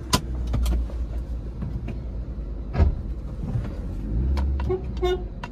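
A Maruti Wagon R VXI rolls along on a short test drive, its low engine and road rumble steady throughout, with a few brief toots of traffic horns standing out over the drone.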